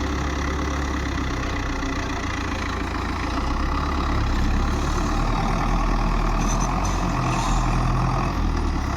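A tractor engine labours loudly and continuously while ploughing heavy ground full of stumps, its wheels slipping under strain in a steady, dense roar with no voices.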